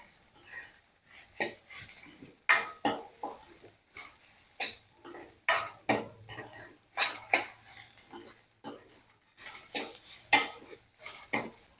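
Repeated clinks and scrapes of a utensil against a metal wok as spices with turmeric are roasted for bitter gourd chutney, irregular stirring strokes at close range with no talking.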